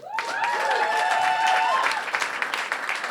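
An audience applauds in a dense, steady burst of clapping that runs for about two seconds, then thins into scattered claps, with a sustained tonal sound above it.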